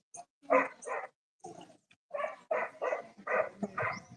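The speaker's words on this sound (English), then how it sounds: "The dogs and them just barking in people's yard" Several dogs barking in short repeated bursts from nearby residential yards, some yips and whimpers mixed in, fairly close and unaccompanied by talk.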